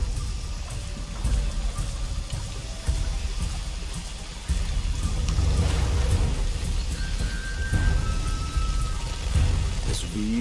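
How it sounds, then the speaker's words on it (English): Steady rain pours in the Shadow of the Tomb Raider game at the Porvenir Oil Fields, a dense hiss with low rumbling swells like thunder, continuous throughout with brief faint voices mixed in. "This would be easier if it wasn't raining."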